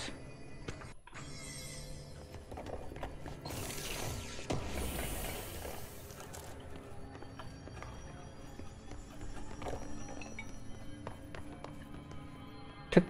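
A clock ticks steadily in the video game Control, with faint regular clicks beneath a dense, low background of game ambience and occasional mechanical noises, plus a brief louder hiss in the middle.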